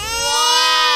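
A newborn baby's cry rises and holds as a single loud, wailing note for about a second, with no talk over it.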